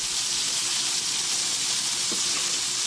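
A T-bone steak sizzles in a pan, a steady close hiss of frying fat that runs unbroken throughout with a faint pop or two and no talking.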